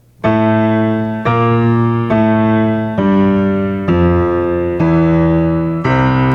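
Piano bass line for a hymn accompaniment struck in octaves, seven sustained low notes at a steady walking pace, each ringing until the next, played alone.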